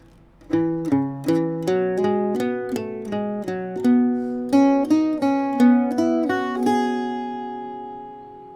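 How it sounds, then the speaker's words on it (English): An Irish bouzouki plays a slow melody, each bright twangy note ringing distinctly in steady succession, close and solo, fading out at the end. "I'll just play that whole line through nice and slowly."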